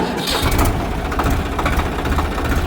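A Swaraj 744 XT 4WD tractor, a 50 hp model, idles close by after being started in neutral, its steady low rumble continuous throughout.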